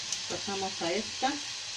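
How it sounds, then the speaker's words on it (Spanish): Ground beef fries in a pan with a steady broadband sizzle throughout, while a voice talks over it in the foreground. "Vamos a freír la carnita."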